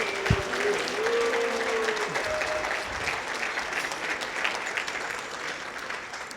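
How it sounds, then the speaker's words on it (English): An audience applauds at a scouting gala, dense steady clapping filling the room continuously, with a few faint tonal sounds early on beneath it. "give Luke a round of applause"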